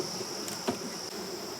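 Honeybees hum around a hive's heavy, food-filled frames as goldenrod comes in, a steady close buzzing drone with one brief soft knock partway through.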